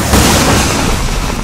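A loud, dense burst of video game explosion noise from Maximum Override that sustains with crackling debris, booming continuously for the length of the clip.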